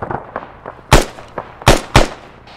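Rifle gunfire in Arma 3 during a large airfield assault, several sharp broadband shots in an irregular rhythm, three loud and close, the rest fainter and more distant, with no talk over them.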